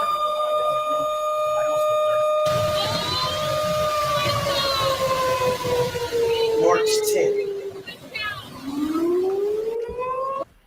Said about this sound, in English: You can hear the alarms going off before the storm even starts